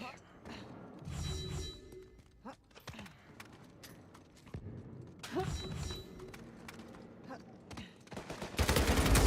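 Gunfire in the video game Uncharted 4 comes as several sharp bursts and thuds between stretches of excited talking, ending in a loud sustained noisy blast.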